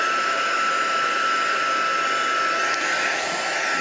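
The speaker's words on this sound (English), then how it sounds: "using my heat tool." A heat tool blows hot air to dry paint on a mixed media piece. It gives off a steady, loud, close whirring hiss that holds level the whole time, with no talking.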